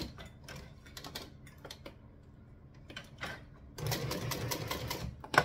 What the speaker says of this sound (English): And we're just gonna stitch next to the zipper.